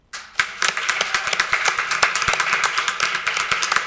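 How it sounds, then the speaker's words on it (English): Board meeting attendees break into applause after a short pause, a small group clapping with distinct, fairly close individual hand claps forming a steady, moderately loud patter. "So if you would all join me in a round of applause"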